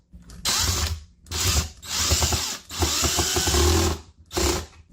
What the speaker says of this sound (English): here's one of the other holes that I'm going to put a screw in